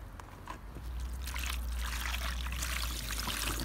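Water trickles and splashes softly at close range beside a beehive, a continuous light pouring sound over a low background hum.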